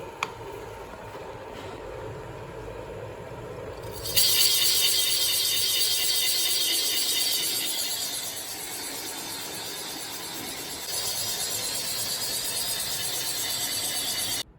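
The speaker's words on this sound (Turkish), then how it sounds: "Makinemizi çalıştırıyorum. Otomatiği açıyorum." A cylinder honing machine works an engine block's bores on automatic cycle, giving a steady mechanical whir and grinding hiss that jumps louder after a few seconds, eases, then rises again.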